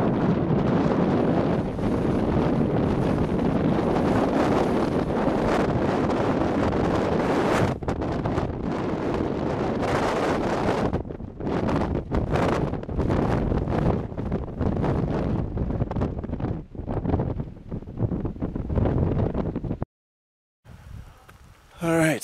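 Strong, nasty wind buffets the microphone on a Himalayan mountain pass along the Annapurna Circuit, a loud continuous roar with gusty swells for most of the time before a brief sudden drop near the end.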